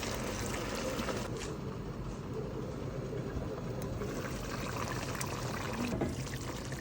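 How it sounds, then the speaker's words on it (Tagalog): Water pours steadily into a cooking pot of spices and ingredients, a continuous splashing rush that runs for several seconds at close range, with no clear talk. "Lagyan na natin ng tubig."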